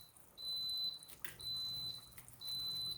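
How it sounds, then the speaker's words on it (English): A pressure cooker in a home kitchen sounds three long, shrill electronic beeps with short gaps between them, fairly loud over quiet room noise, with no one speaking. "Oh god, the pressure cooker's yelling at me."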